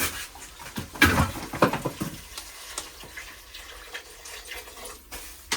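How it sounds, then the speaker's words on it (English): Water is poured into a soup pot on a wood stove, a short splashing pour that swells and then thins to a faint trickle, heard close with no talking. "I'm going to add in some water also right now."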